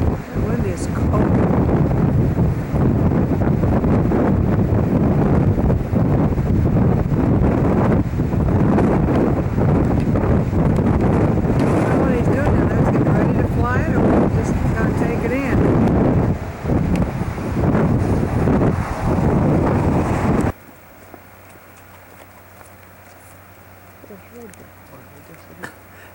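Cold wind buffeting a camcorder microphone on the Oregon coast near Cape Perpetua by Highway 101, a loud, continuous roar that stops abruptly near the end, leaving faint background hiss.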